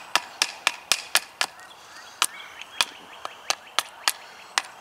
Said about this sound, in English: sometimes it's even better with your larger knife